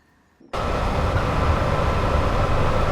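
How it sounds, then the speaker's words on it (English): A train hauled by a Class 87 locomotive on the West Coast Main Line over Shap bursts in suddenly after a quiet start, then runs as a loud, steady roar of wheels on rail, with no voices. "How nice is this route with rail singing"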